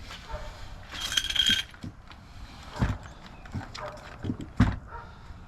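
A scuba gear box lid closed and latched, and a set of doubles tanks leaned against it outdoors, giving a series of clunks, clicks and a metallic latch snap at close range, with some talking.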